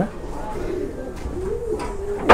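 Pigeons coo softly in a rooftop loft in Hubli, with low rolling calls and light background rustling.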